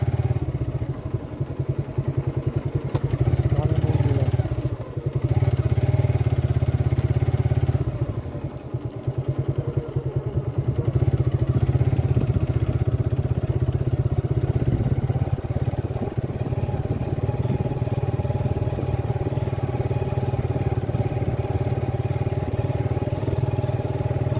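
Motorcycle engines drone along a road in Nagorpur, Tangail, a steady mid-pitched rumble swelling and easing as bikes ride past, loud and close throughout.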